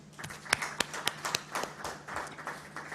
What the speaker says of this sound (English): I think we should clap for UN Women and the ministry